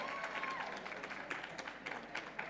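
A conference audience at an entrepreneurship event claps, a fairly faint but continuous wash of many hands with scattered sharper claps and some voices underneath.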